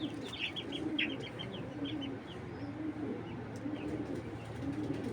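A Giribaz tournament pigeon coos softly and repeatedly in a loft, with other birds nearby making quick chirps and clucks over a steady background hum.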